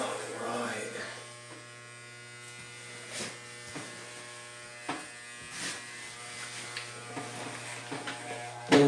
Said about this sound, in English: I'm just going to shave the rest off.